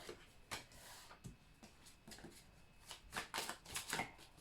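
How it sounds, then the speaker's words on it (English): Tarot cards are shuffled in a series of quick, crisp riffling bursts, close and fairly quiet, with short pauses between them. "give me a moment while I shuffle your cards through"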